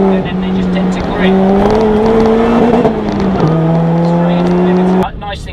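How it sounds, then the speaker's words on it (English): Lotus Elise sports car cornering hard, its engine holding a steady, loud tone that dips and rises as the driver lifts off and lets the rear rotate, heard close and continuous throughout. "See with Lotus, you get a little bit of push at the early phase of the corner, you lift a bit, let the back go round"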